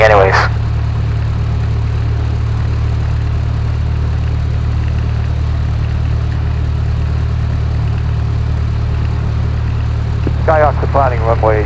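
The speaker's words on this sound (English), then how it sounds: "Plymouth traffic, Cessna 249 departing runway 24, departure to the west" A Cessna Skyhawk propeller plane departs runway 24 at Plymouth, heard from inside the cockpit as a loud, steady engine drone throughout, with brief radio voices near the start and end.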